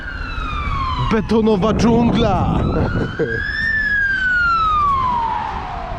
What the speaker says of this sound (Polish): karetka.